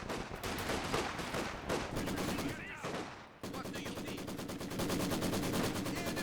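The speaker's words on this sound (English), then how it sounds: "Maxim's firing away" A Maxim machine gun firing in Company of Heroes 2, a long, fast, evenly pulsing stream of rounds with a brief break before the burst resumes, steady and prominent throughout.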